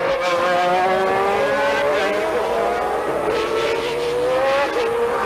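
Formula One race cars screaming past at Interlagos during a Brazilian Grand Prix, high-revving engines rising and falling in pitch as they go by, with commentary over the top.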